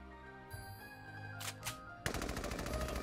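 Gunfire in the video game Valkyria Chronicles 4: game music plays, a few sharp short effects sound, and then a dense, loud rattle of rapid automatic fire carries on to the end.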